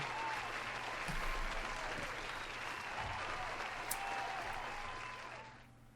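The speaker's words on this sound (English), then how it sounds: "There's another round of applause for you." A room of quiz players gives a steady round of applause for the winner, even and sustained for several seconds before tapering off at the end, with no talk over it.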